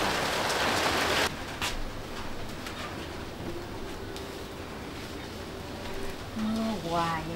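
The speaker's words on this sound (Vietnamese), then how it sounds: "Mưa hoài vậy trời." Rain falls steadily, heavy and hissing at first, then easing to a constant close patter, with a few brief tonal sounds near the end.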